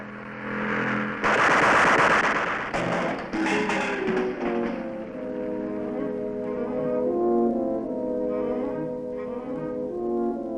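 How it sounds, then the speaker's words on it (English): Machine gun fire from a 1960 crime film comes as a loud, dense burst followed by a few shorter rattling volleys, then gives way to sustained tonal sound. "Hand me that machine gun."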